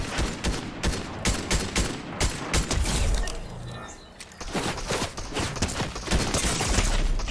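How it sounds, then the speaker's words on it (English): Rapid-fire SMG gunfire in the Fortnite video game, dense bursts of shots crackling nearly continuously at close range, with a brief lull midway before the volleys resume loudly. "rapid fire SMG."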